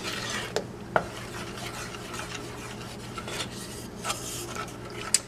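A spoon stirs a thick snow dough mixture in a pan, making a soft continuous scraping and rubbing with a few faint clinks. It is close and quiet, and no one talks.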